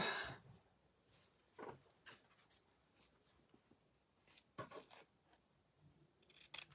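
Scissors snip and crunch through frayed burlap in irregular bursts, several close cuts separated by quiet pauses, faint and near.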